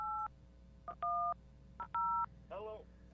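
Three crisp two-tone telephone dialing beeps sound at even intervals during a radio talk-show call-in, followed by a brief warbling ring, quiet and close with a low hum underneath.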